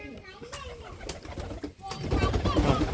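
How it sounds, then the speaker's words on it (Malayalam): Small white pigeons with feathered feet arrive, giving soft cooing and a brief flutter of wings, close by and mixed with other bird calls and a murmuring voice. "ഇതാണ് നമ്മുടെ പ്രാവ് വരുന്നത്."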